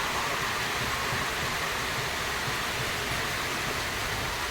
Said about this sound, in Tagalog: Bigla kasi ulan na yun, hindi ko rin nakalain na uulan.